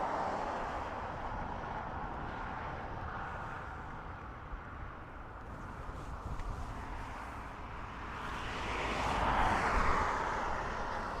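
An Aer Lingus Airbus A320neo arrives at Dublin Airport from Geneva, a distant, fairly faint jet engine drone over airport ambience that swells louder toward the end as the aircraft draws nearer.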